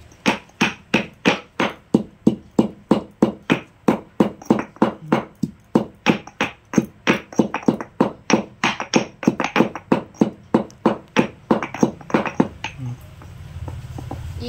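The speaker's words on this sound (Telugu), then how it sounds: "ముందుగా దంచి పెట్టుకున్న మన యాలకులు" Cardamom pods are crushed with about forty sharp, evenly spaced pounding strikes over roughly twelve seconds. The strikes are close and loud, then stop, leaving quiet room noise.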